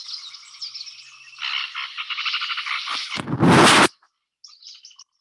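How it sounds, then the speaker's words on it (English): Blackish rail with two chicks calling beside a lodge in the Andes of Colombia: a run of harsh, rapid chattering notes building in loudness, ending in a loud burst, then a few faint squeaks. "We found right there next to the lodge, a blackish rail, with two chicks. And this is what they sound like."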